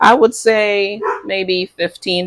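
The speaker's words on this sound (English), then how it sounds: "You can hear him barking in the background." A small dog yips and barks in quick bursts in a kitchen, close by and fairly loud, with a person talking over and between the barks.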